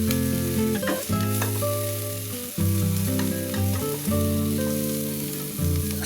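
Seasoning stirred and fried in a pan over low heat for a chili-salt snow pea dish, a soft steady sizzle with occasional stirring scrapes, largely masked by continuous background music.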